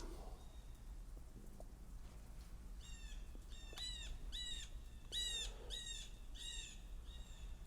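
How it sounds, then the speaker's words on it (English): Several birds chirp in quick, repeated bursts of bright, descending calls, clear but soft against a quiet outdoor background. "You hear the birds."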